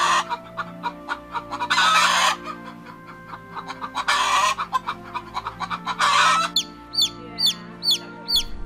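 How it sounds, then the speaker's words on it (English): Hen cackling in loud, shrill, squawking bursts that repeat in three strong surges, followed at the end by a run of short, high chirps, with no talking. "Cackle. Especially of a hen, to squawk with loud, shrill notes."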